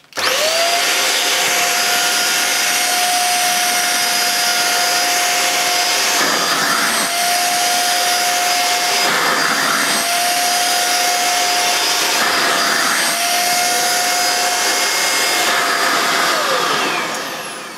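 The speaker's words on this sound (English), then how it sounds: "let's see how effective this Hoover Jovis is at pet hair removal" Hoover Jovis 550 watt corded handheld vacuum cleaner running continuously while picking up pet hair, a loud steady whine with slight dips as the nozzle moves, alone without talk.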